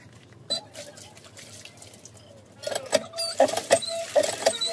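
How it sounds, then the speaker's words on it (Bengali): Cut fish pieces are rinsed in water, giving soft splashing, dripping and sloshing close by that grows busier and louder in the second half. "মাছটা এবার আমি ভালো করে ধুয়ে নিয়েছি।"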